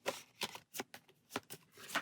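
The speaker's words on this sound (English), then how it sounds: "And then shuffle this back into our deck." Playing cards from a Pathfinder adventure card game are shuffled back into a deck, a quick series of about six soft riffling bursts, close and quiet.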